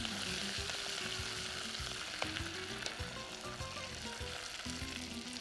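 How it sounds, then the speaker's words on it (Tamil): Onions, coriander and mint sautéing in oil in a pan give a steady, close sizzle with frequent stirring scrapes throughout. "கொத்தமல்லியை போட்டுருவோம், போட்டு நல்லா வதக்கலாம். வெங்காயத்தை போட்டலாம்."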